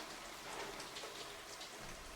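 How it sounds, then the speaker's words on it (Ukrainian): Steady rain falls outside, a dense continuous hiss of drops on surfaces at moderate level with no voices. "На вулиці дощ."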